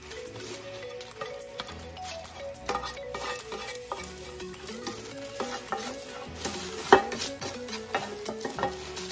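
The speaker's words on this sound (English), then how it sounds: "Okay, so now I'm going to transfer my turkey into the crock pot." Cooked turkey is scraped from a pan into a crock pot, with scattered metallic clinks, utensil scrapes and soft knocks against cookware, alongside a faint sizzle and a background hum.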